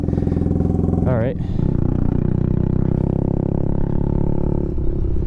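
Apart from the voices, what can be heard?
Kawasaki Z125 Pro motorcycle engine starting and running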